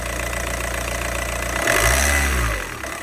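A VW ALH TDI diesel engine idles with a steady clatter, then revs up briefly around the middle before settling back toward idle, loud and close with no talking.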